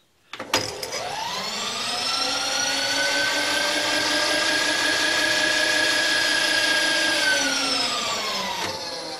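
A 1-inch milling cutter spins at 1,000 RPM, a steady close machine whine with a strong tonal hum that starts abruptly, holds even for about eight seconds, then winds down.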